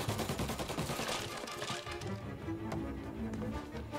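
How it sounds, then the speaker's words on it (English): Gunfire from the video game Mafia Definitive Edition crackles in a dense fusillade of overlapping shots, fairly faint and distant-sounding, mixed with a low musical background. "Who are they shooting at?"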